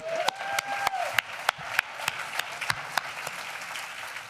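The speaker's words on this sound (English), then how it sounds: "Let's just give a round of applause again." An audience applauds at a women's awards event during Oktoberfest, a broad steady patter of many hands with a few sharper individual claps standing out near the microphone.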